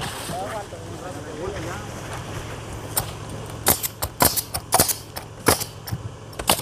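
Pneumatic nail gun fastening roof shingles on a steep 12/12 pitch roof valley, a quick irregular series of sharp snapping bangs over steady wind and outdoor background noise, with a voice talking at the start.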